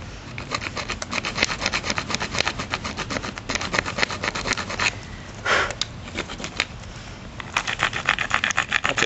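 A hand saw rasps steadily through deer antler in quick, even back-and-forth strokes, loud and close, with a few brief pauses and no talking.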